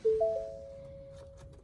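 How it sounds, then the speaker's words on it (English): A Zefiro 675 motorhome's ignition-off warning chime sounds as two-tone bong notes, soft and somewhat distant over low cabin rumble, with another bong starting at the end. "is a bong that's coming from to tell you you've turned the ignition off"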